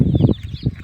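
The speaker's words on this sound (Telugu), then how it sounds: "సో ఇట్లా 100 కోళ్ళను సెలెక్ట్ చేసుకున్నాం." Native country hens cluck on a poultry farm, a short burst of close, fairly loud clucking with no talk over it.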